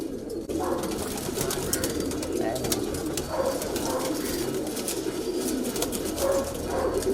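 A flock of high-flyer pigeons in a loft coos continuously, low rolling calls overlapping amid busy background noise.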